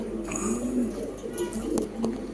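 A male Janardan-bloodline pigeon at a pigeon sale coos in low, rolling, repeated phrases close by, while voices talk over a steady background hum.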